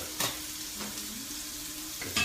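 Halibut and scallops sear in a hot pan with a soft, steady sizzle. A few sharp clatters of the pan or utensils stand out at the start and the end, and nobody speaks.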